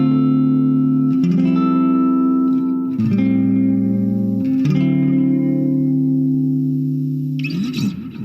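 Electric guitar, a PRS Custom 24-08, played through a Positive Grid Spark practice amp with effects: sustained chords with shimmery modulation and echo, changing every second or two, clear and upfront with a scratchy strum at the end.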